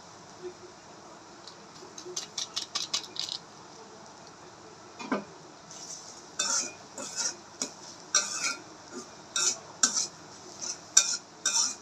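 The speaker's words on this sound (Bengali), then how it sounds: "চাট মশলাটা দিয়ে ভালো করে মিশিয়ে নেব" A spoon scrapes and clinks against a pot while chaat masala is stirred into a homemade afternoon snack, with bursts of quick metallic taps and scraping strokes, close and moderately loud, plus a faint sizzle underneath.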